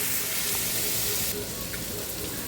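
Bottle gourd pieces tipped into hot spiced oil set off a loud, steady sizzle, with the hiss easing slightly partway through as the frying settles into a continuous close crackle.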